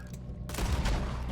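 Heavy, dense gunfire in Red Dead Redemption 2, a loud sustained volley that erupts suddenly after a brief quieter moment and continues with rapid overlapping shots, with faint talk mixed under it.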